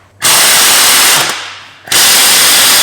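A power tool rattles out a Torx 50 flywheel bolt on a Ford Mondeo Mk4 in two loud, close bursts separated by a brief easing pause.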